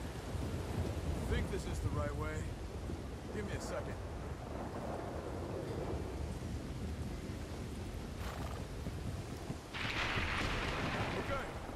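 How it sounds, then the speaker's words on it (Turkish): Rain falls steadily in the Red Dead Redemption 2 video game, a broad rushing hiss with low rumbles of thunder and a few brighter gusts. "Biraz yağmur dinleyip sakinleşelim."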